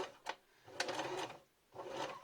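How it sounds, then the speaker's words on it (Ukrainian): Sewing machine running in three short bursts as it stitches the seam of a fabric bag, a steady close mechanical whir with quiet pauses between runs. "знаходимо нашу педальку і починаємо потихеньку виконувати строчку"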